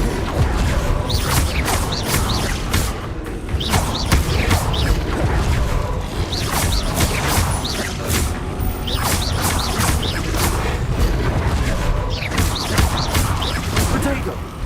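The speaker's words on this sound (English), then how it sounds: "Incendio!" Incendio fire spells are cast over and over during Hogwarts Legacy combat, loud crackling bursts landing in quick, uneven clusters across a dense, noisy fight.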